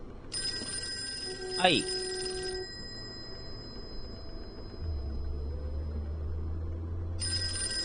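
An old telephone rings in the Call of Cthulhu game on PS4 with a bright electronic trill that cuts off, then starts again, while someone talks over it and low background ambience hums.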